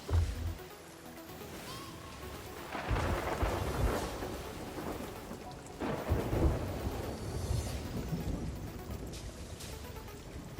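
A stormy sea in Sea of Thieves rumbles with heavy rolling thunder under steady rain, loud swells of thunder breaking twice across a constant downpour, with no voices.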